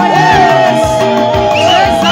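A church congregation at a Sunday service ululates loudly and continuously, with high wavering trills and whoops over dense crowd noise and shouting.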